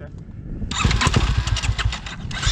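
A dirt bike on a rutted Southern California dirt trail, its engine revving up in uneven bursts as the rider slips the clutch, close and loud, with a rough, fluttering exhaust note.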